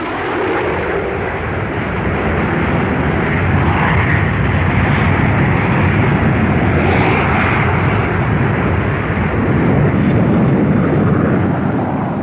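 Handley Page 115 slender-wing research aircraft flying at low speed at the Farnborough air show, a loud, steady jet roar that fills the scene without pause and swells slightly as it passes.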